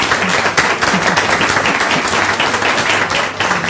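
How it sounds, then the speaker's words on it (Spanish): An audience gives a final round of applause at the close of a talk on digital journalism, a loud, dense and continuous clapping that fills the whole stretch. "que un último aplauso"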